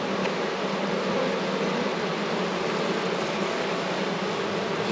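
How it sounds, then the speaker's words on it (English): Honeybees at an open hive give a steady, dense buzz at close range as a queen is released among them, a continuous droning hum with no talk over it. "You can see the bees all on here"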